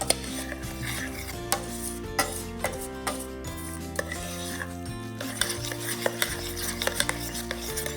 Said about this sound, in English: I'm just going to stir that together like I normally would